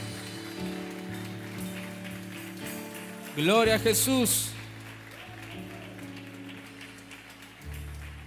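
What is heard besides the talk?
church congregation applause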